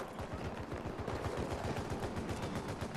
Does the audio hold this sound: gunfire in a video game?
yes